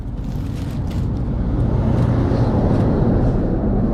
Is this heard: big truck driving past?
yes